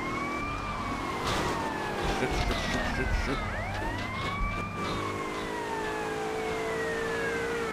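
A wailing police car siren in Grand Theft Auto: Vice City, its pitch sweeping up and down repeatedly over game engine and street noise, with a man briefly cursing over it.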